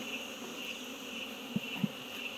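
A honeybee swarm hums at an opened hive during a honey harvest, a steady, fairly quiet buzzing drone with a few louder bees passing close by near the end, no voices.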